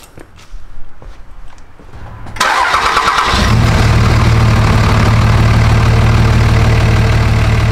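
A Cummins diesel truck engine with an S&B intake cranks and fires up loudly, then settles into a steady, rumbling idle after a few quiet seconds of faint movement.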